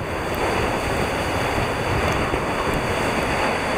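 Waves roll in and break steadily on an icy beach shore during a cold blizzard, a loud continuous surf wash mixed with strong wind noise, with no speech.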